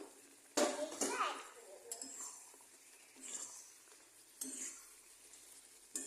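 Paneer cubes tipped into a pan and stirred, with a sharp clatter as they drop in, then scraping spoon strokes and a soft sizzle beneath, plus a few more scrapes later on.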